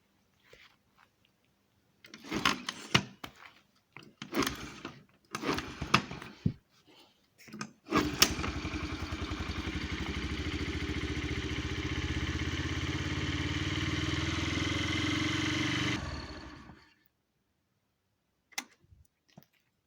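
A moped is kicked over with a few clunks and clicks, then its engine catches and runs at a steady, loud idle for about eight seconds before cutting off, followed by near silence.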